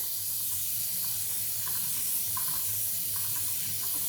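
Chain lube sprayed onto a motorcycle chain in one continuous, close aerosol hiss, with faint clicks now and then under the spray.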